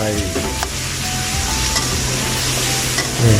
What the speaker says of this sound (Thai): ผัดจนหอมนะครับใส่หมูสับที่หมักลงไป